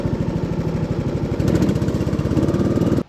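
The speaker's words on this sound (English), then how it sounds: "you've guessed it, the head gasket's blown" Riding lawn mower engine with a blown head gasket running steadily, a loud, rough, pulsing chug with a rapid uneven beat that cuts off abruptly at the end.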